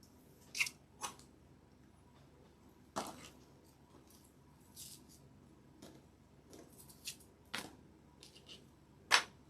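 Modeling clay being cut into pieces for fake Halloween cookies, a handful of sparse, quiet clicks and snips spread out over near silence.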